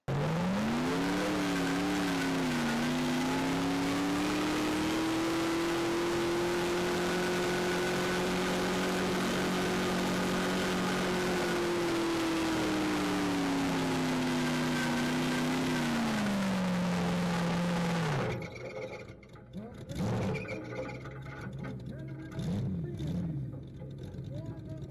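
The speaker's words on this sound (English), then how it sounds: "Changed this run to run our standard gear, and of course I revved up quite a bit higher." Onboard race car engine running at high revs on standard gearing, a loud sustained drone that rises and falls in pitch for about eighteen seconds, then drops away to quieter rumbles and brief bursts.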